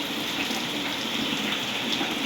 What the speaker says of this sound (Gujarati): આજે સારો વરસાદ પડી ગયો.